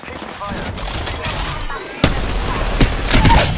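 Gunfire in Apex Legends during a firefight, a steady stream of close shots with sharper loud cracks around the middle and near the end, over game noise and voices.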